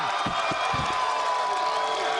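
Crowd cheering and whooping at a World's Strongest Man 2011 event after a world record lift, a steady roar of many voices held throughout at moderate loudness.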